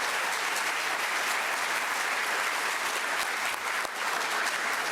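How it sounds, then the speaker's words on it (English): A large crowd at a basketball hall of fame induction reception applauds in a dense, steady wash of clapping that stays loud and even throughout. "please give another round of applause"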